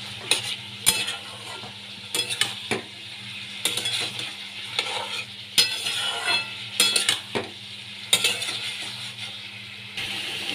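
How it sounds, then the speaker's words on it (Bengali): Potatoes and fried shrimp are stir-fried in a pan for a Bengali snake gourd dish: steady sizzling with repeated scraping and clinking strokes of a spatula against the pan, close and without talk. "এবার এর মধ্যে আমি আলু আর চিংড়ি মাছ ভাজাগুলো এর মধ্যে দিয়ে দিচ্ছি। এবার ভালো করে কষিয়ে নিতে হবে।"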